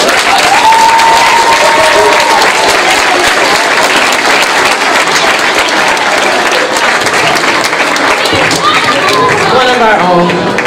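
A large crowd at a Martin Luther King Jr. memorial event breaks into loud, continuous applause, with cheering and voices mixed into the dense clapping throughout.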